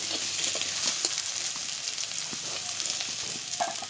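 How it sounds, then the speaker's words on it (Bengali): Turmeric-coated mukhi kochu (taro) pieces frying in hot oil, a dense close sizzle that stays even throughout with scattered pops and crackles, no voices. "হলুদ মাখানো কচুগুলো ভেজে নেব"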